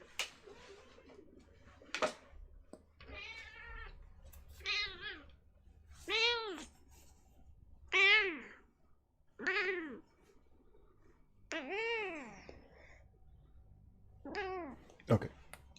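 A cat meows repeatedly at home, about eight or nine clear rising-and-falling meows spaced a second or two apart, loud and close, with a few sharp bumps between them and no talk over them.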